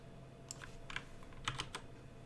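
Computer keyboard typing at a desk while working in GZDoom Builder: a few short clustered bursts of keystrokes, close and fairly quiet, with no voice over them.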